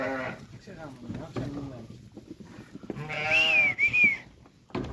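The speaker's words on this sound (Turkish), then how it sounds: "Kuzularımız burada işte." Sheep and lambs bleat in a barn, with several calls close by, some high and wavering, and people talking among the animals.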